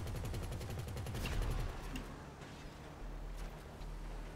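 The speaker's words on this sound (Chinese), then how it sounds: "你机枪从我后面直接打过去，不会打到我" Rapid automatic machine-gun fire in the video game GTA 5 rattles on steadily, with dense bursts heavier in the first half and lighter, continuous shots afterward.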